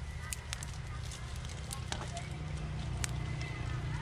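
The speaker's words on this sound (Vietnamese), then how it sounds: "Rồi bây giờ lửa lên rồi thì anh Dương đang chuẩn bị" A wood campfire burns at a weekend campsite on Cu Lao Long Huu island in Vietnam's Mekong Delta, giving scattered sharp crackles and pops over a steady low rumble, close and moderately loud throughout.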